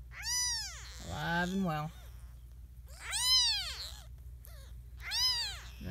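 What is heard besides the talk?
one-week-old kittens meowing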